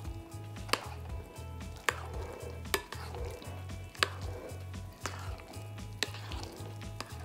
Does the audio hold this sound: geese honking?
no